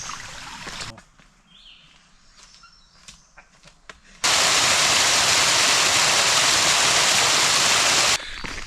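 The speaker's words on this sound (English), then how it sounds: "Got a creek running right beside." Steady, loud rushing water fills most of the clip, a broad constant wash of a creek beside a campsite on the Foothills Trail, after a quieter stretch of faint outdoor sounds.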